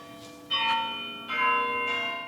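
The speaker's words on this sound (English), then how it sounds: "Church bells are ringing." Church bells ring out in two strong, resonant strikes, their long metallic tones overlapping and lingering.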